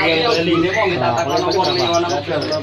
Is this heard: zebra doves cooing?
yes